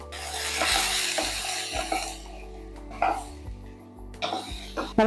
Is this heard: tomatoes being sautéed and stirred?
yes